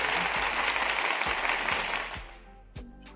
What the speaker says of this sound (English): We got clap sounds now.